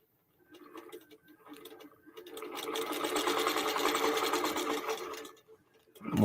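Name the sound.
QBOT V3 quilting machine stitching a mini-tote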